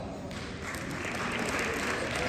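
An audience at a movie screening applauds in a dense, steady wash of clapping that holds evenly for a couple of seconds.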